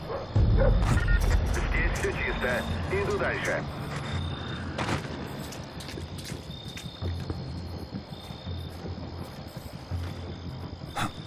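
Dogs barking in the stealth game Splinter Cell: Blacklist at a Guantanamo level, sharp barks and yips scattered through a tense ambient game soundscape, with game voices talking intermittently.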